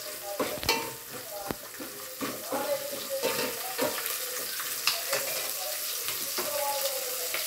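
Onions frying in a pan for hotel-style drumstick sambar, a soft sizzle with scattered clinks and scrapes of stirring, fairly quiet and close, with no voice over it.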